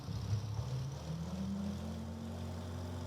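A simulated Yakovlev Yak-18T radial piston engine drones steadily while parked with brakes holding, its low buzzing tone rising slightly in pitch as it revs up.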